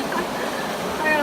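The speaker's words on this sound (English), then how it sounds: "I got all kinds of waterfalls now." Waterfalls on the French River make a steady, dense rush of falling water, loud and close, with no break.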